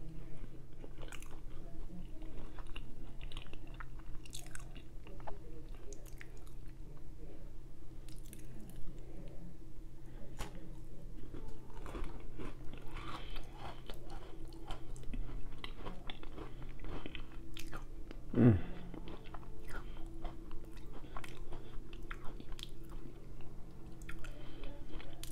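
Close-up chewing and biting of Oreo cookies and chocolate-covered strawberries, with soft crunches and wet squishy mastication that continue steadily, quiet and intimate, one sharper bite standing out near the end.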